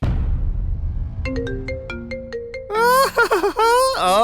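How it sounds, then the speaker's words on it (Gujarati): Mobile phone ringtone for an incoming call: after a fading low rumble, a bright electronic melody of plucked notes rises into a louder warbling tune, close and prominent. "આ ત્રીજો ફોન આવ્યો."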